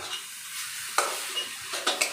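Garam masala stirred into spices frying in a pan: a soft continuous sizzle with scraping stirs and a few sharper clinks of the utensil against the pan, close up.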